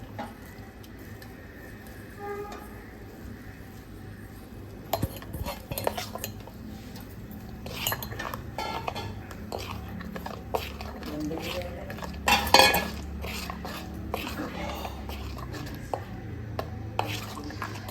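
A spoon works bread crumbs into a pan of dissolved sugar for bread pudding. It scrapes and clinks against the metal in irregular strokes that grow busier and louder toward the end, with no one talking.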